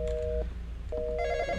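Telephone rings twice in the Roblox horror game The Intruder, two short steady ring bursts with a gap between, over a low background hum.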